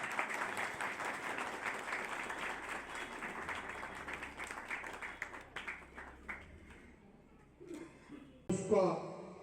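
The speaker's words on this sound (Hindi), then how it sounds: "आपकी तालियां जोरदार बजनी चाहिए।" Rally audience at a BSP workers' birthday gathering for Mayawati claps in a broad, fairly quiet wash that thins and fades out over several seconds, followed by a few scattered claps and brief noise near the end.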